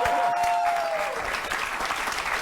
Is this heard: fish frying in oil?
no